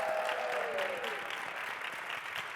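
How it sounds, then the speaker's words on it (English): An audience applauds to welcome a panel onstage at a conference, a steady, moderately loud wash of clapping that carries through the whole stretch with no break. "So welcome the Super Friends panel. Give us our applause."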